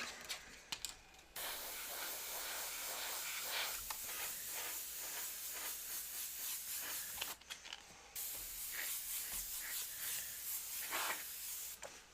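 An airbrush hisses steadily as it sprays paint to add shading on a dragon model of Dirk the Daring from Dragon's Lair, a close, continuous spray broken by two short pauses.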